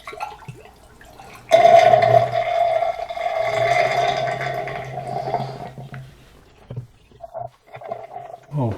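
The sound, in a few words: rinse water poured into freeze dryer drain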